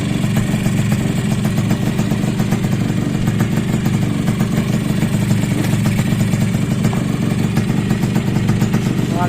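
Restored Suzuki X4 motorcycle engine running steadily at close range, a loud continuous rumble with mechanical clatter and no clear revving, alone without talk.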